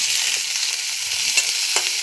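Small local pond fish fry with onion in a pan, giving a steady close sizzle with light scraping as they are stirred, and no voices.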